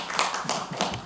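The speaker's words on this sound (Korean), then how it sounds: "한번 큰 박수 부탁드리고요" Brief, sparse clapping at a 2021 Buddhist education seminar, with a few sharp hand claps spaced at a steady rhythm rather than a full, dense round of applause.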